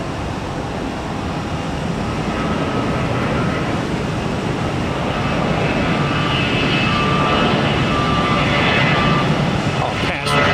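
A jet airliner takes off at full thrust at Tampa airport, a broad, loud roar building steadily and sustained across the clip, with a faint voice talking in the background.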